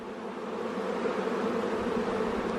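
Honeybees drone in a dense, steady buzz during a beehive inspection, with many insects humming close by and no voices.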